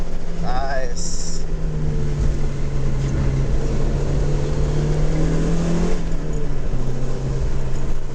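A Mazda Miata climbs through the gears on the Glendora Mountain Road canyon, its engine a loud, steady in-car drone that holds its pitch and then drops as it shifts near the end.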